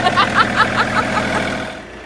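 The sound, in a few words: tractor engine running in the paddock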